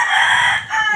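A rooster on a backyard farm crows loudly and close, one strained bright call that fills the whole short moment.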